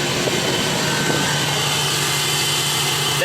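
A Duramax diesel truck engine running after an O-ring repair, a loud close steady drone with a constant hum and no breaks.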